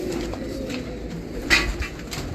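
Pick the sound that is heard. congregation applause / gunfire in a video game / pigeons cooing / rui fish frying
pigeons cooing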